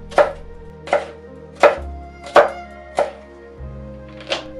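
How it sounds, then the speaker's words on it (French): Knife chopping sweet peppers into thin strips 2 to 3 mm wide on a board, six crisp, evenly spaced cuts close and clear with no voices. "Détaillez en deux tronçons, ensuite en lanières de 2 à 3 mm de largeur"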